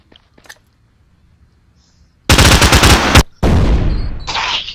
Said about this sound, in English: Time to switch out the famous sniper rifle.